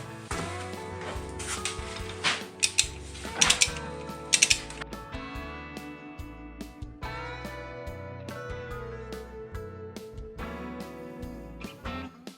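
Ratchet wrench tightening flywheel bolts in a cross pattern on a 1994 Chevy Silverado during an automatic-to-manual swap, with rapid close clicking in repeated bursts amid clunks and a loud droning background hum.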